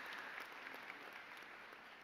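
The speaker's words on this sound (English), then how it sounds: "give yourselves a pat on the back and a hand of applause." Graduating students of the Bronx High School of Science Class of 2023 applaud themselves at their graduation ceremony, a steady, fairly faint wash of clapping that holds evenly for about two seconds with no talk over it.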